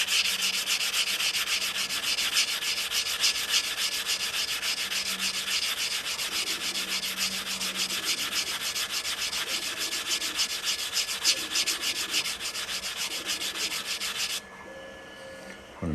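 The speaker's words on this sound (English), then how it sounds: "The next step on these is to file the cut edge and stretch them out. So I'm just going to start filing away." A hand file rasps in fast, steady strokes across the cut edge of a ring made from a Texas quarter coin, close and continuous for about fourteen seconds before stopping.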